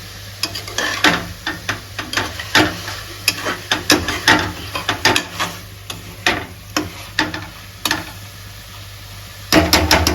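Mutton breastbone curry with brinjal being sautéed in a pan, a steady sizzle under repeated sharp scraping strokes of a spoon stirring at an uneven rhythm, close and fairly loud.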